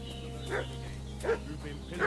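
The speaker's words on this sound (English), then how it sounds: "What's that dog making such a fuss about?" Dog barking in the medieval game Kingdom Come: Deliverance II, three short barks spaced about three-quarters of a second apart at moderate distance, over a steady low ambient hum.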